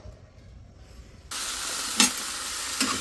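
Food hits a hot pan partway through and starts frying, a sudden loud sizzle that continues steadily with a couple of brief crackling spikes, close and alone.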